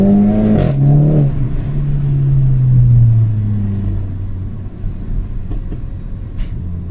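A five-cylinder engine in a VW Golf GTI, a loud close rumble with a falling pitch as it winds down, easing into a lower, rougher idle-like drone.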